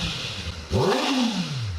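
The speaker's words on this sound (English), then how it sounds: "the next bike from Kawasaki is the ZX4RR, another relatively new bike introduced just a couple years ago, featuring a small bore inline 4-cylinder engine." Kawasaki ZX4RR sport bike with a small-bore inline four-cylinder engine revs once, a quick rising blip that peaks and then falls away smoothly, heard close and fairly loud over a steady background hum.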